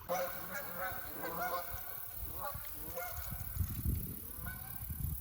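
Geese honk repeatedly on a wood duck pond, a scattered flock calling in uneven bursts at moderate distance, fairly quiet overall, with no talk.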